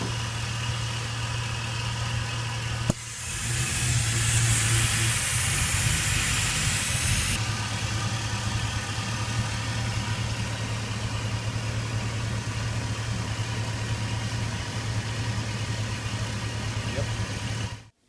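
A warm GM Vortec 5.3 V8 idles steadily throughout, with a low, even hum and a burst of broadband hiss partway through, like air or steam rushing.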